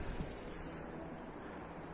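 Pigeons coo softly against a constant wash of outdoor noise, the calls low and somewhat distant; the birds are Karabaş Kara Kuyruk Kelebek pigeons.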